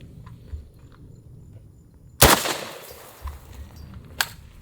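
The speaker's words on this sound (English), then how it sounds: "Full metal jacket on the AK." An AK rifle fires full metal jacket ammunition in a single sharp, loud crack at close range, followed by a brief echo and a fainter second impact a couple of seconds later.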